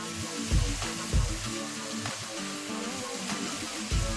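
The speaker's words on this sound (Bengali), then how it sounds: "সমস্ত সবজিগুলোর সাথে আমরা সসটাকে ভালো করে মিশিয়ে নেব আর গ্যাসের ফ্লেমটা সবসময় এটা হাই হিটেই রাখবেন" Vegetables with tomato ketchup and dark soy sauce stir-fried over a high gas flame, a steady close sizzle broken by several louder scraping tosses of the spatula in the pan.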